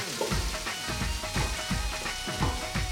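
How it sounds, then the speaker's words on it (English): Sliced onions hitting hot oil with garlic, ginger and fenugreek seed, a loud close sizzle mixed with rhythmic scraping and stirring knocks of a utensil against the pan. "add your sliced onions"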